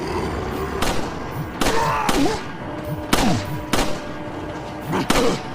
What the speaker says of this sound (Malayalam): ഒരു വെടി അവരുടെ നേരെ കൊള്ളുന്നില്ല.